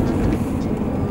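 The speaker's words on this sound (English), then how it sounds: "Airport." Loud, steady airport ambience with the broad rumble of aircraft filling a brief moment.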